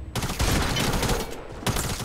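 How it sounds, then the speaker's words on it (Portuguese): Rapid bursts of gunfire from a squads match in the video game Fortnite crackle in dense, loud volleys that drop out briefly twice before resuming. "Tô vendo tiro perto de mim aqui."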